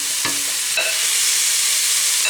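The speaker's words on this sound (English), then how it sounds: "I'm going to fry this until all the beef stewing steak has browned now." Beef stewing steak frying in a pan with softened onions gives a steady, close sizzle, with a few brief scrapes and stirring knocks near the start and end.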